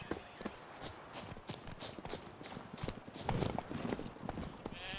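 Roach the horse trots along in The Witcher 3: Blood and Wine, hooves clip-clopping in a quick, even rhythm, close and clear over a soft ambient game background.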